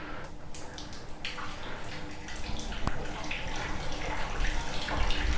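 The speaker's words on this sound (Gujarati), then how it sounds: "જો પાણી અહીંથી બોરનું પાણી ખેંચાય" Steady borewell water pours from a tap, a continuous rushing splash with occasional drips and knocks, close by and without talk.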